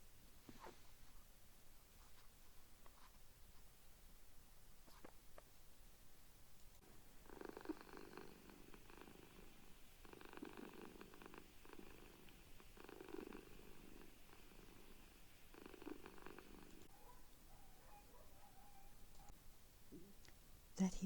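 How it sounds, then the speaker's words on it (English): A cat purrs softly in a slow rhythmic rolling pulse, quiet and close, broken by pauses and faint clicks. "the cat's soft purring"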